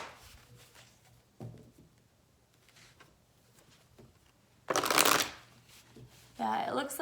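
Tarot cards are shuffled in two brisk bursts of riffling and flicking, close and fairly loud, after a quiet stretch with faint handling noises and brief speech.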